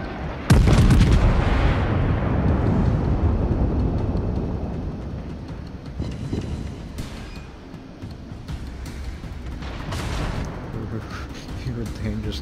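Naval guns in World of Warships open with a heavy near boom, then a long rumbling roll and scattered distant shots and bursts while people talk over it.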